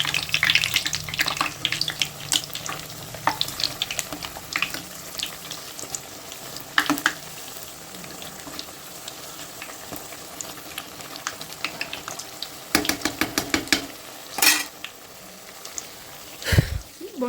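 Bonda fritters fry in hot oil with a bubbling hiss that carries throughout. Bursts of louder crackling and spattering come and go, with little or no talking.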